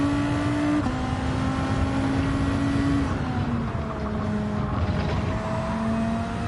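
Racing car engine and exhaust in Gran Turismo 7, Gr.2 cars at Brands Hatch, a loud, steady drone whose pitch holds, drops a step and settles again through shifts, continuous throughout with no talking.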